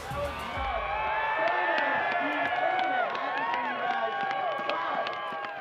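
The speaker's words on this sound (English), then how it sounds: "Crowd absolutely loving that." Crowd at the YETI Natural Selection snowboard finals in Revelstoke cheering, whooping and shouting loudly for several seconds, a sustained roar of many voices with excited yells rising over it.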